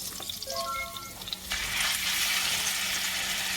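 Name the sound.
beef mince frying in garlic oil in a pot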